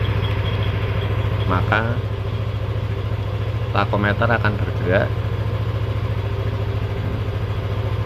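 A motorcycle engine runs steadily close by at a low, even idle, continuing under a voice speaking in Indonesian for most of the stretch.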